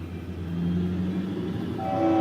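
A CSX freight train rumbles past, with a horn tone rising toward the end, loud and close, no talking.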